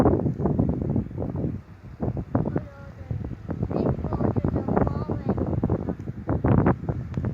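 Wind drives snow during an April blizzard, buffeting the microphone in rough gusts that come and go. Voices talk over it now and then.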